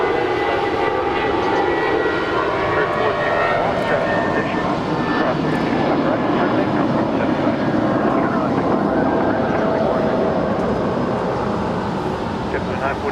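An airliner lands long on runway 25 Left at Los Angeles International, its engine roar steady and broad throughout with a faint radio or voice present underneath.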